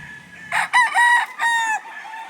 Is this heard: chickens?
yes